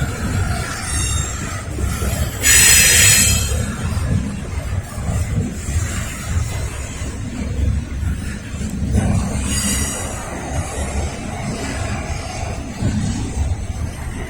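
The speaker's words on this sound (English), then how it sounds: "This train came out of Charlottesville. It's coming across the connector from Montview." A Norfolk Southern freight train rolls across the connector in Lynchburg, producing a steady, loud rumble of wheels on rail with sharp bursts of wheel squeal rising over it twice.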